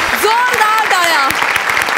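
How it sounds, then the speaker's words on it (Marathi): A studio audience at a Marathi comedy show claps in a rapid patter of hand claps while voices call out and talk loudly over the applause. "जोरदार टाळ्या."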